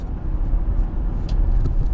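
A 2020 Jeep Gladiator is driven on the road, with a steady low engine and road rumble, close and loud, plus a few faint higher rattles and clicks inside the cabin.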